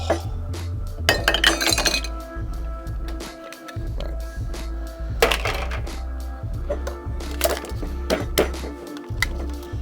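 A cocktail shaker packed with big ice cubes is shaken hard by hand, giving bursts of rattling, clinking ice against metal in uneven rhythm, close and loud, over a low steady hum.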